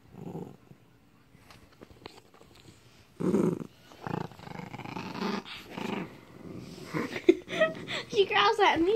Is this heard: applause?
no